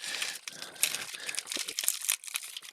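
Plastic packaging around a power adapter crinkles and tears in a close series of irregular crackling bursts and rustles, with no talking.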